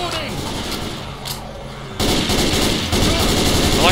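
Rapid automatic gunfire from a Left 4 Dead 2 zombie shooter battle, a steady dense rattle of shots that jumps louder partway through, continuing without pause.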